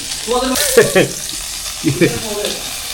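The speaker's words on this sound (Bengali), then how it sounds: "দর্শক বন্ধুরা আপনারা দেখতেছেন কাকড়া ভাজা" Crabs frying in a pan at a crab party, a close, steady sizzle running beneath loud talking voices, with a couple of brief scraping bursts.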